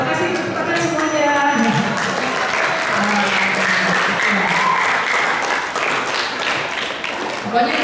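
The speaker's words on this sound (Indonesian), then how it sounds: "tepuk tangan semuanya" Sustained applause from a school audience of lower secondary students in Jakarta, loud and steady for about eight seconds, with faint voices mixed into the crowd noise.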